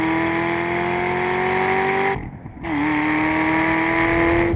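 An American muscle car driven hard on a race track roars with a loud, sustained engine note that drops out abruptly for a half-second lift, then returns at a slightly lower steady pitch, with no talk.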